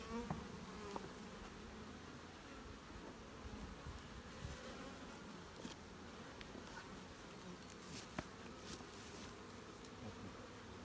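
Honeybees buzz densely around a beehive during work to strengthen a weak colony, a continuous layered hum of many insects close by with occasional brief knocks, no speech.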